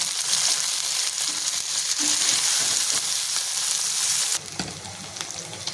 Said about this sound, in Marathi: कांदा छान परतून झालाय सोनेरी रंग आलाय टोमॅटो टाकून घेते आणि ते सुद्धा आपल्याला परतायचे